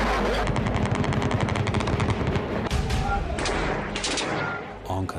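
Rapid bursts of gunfire and machine-gun fire during the 15 July coup attempt in Turkey, loud and dense throughout, with sharp cracks over a rumbling backdrop and a brief dip near the end.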